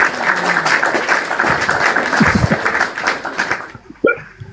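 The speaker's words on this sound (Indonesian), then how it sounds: "Nah, itu tepuk tangan dulu, host." Applause at an Indonesian talk, a dense burst of crowd clapping that fills most of the clip, then cuts off near the end with a short voice.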